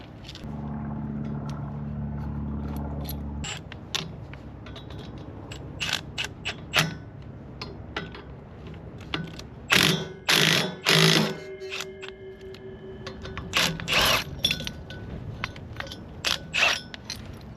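A gear puller ratchets on a Lincoln Weldanpower welder that sat unused for 12 years, giving a series of short, sharp mechanical clicks and creaks, with a dense burst of ratcheting in the middle after a steady low hum at the start.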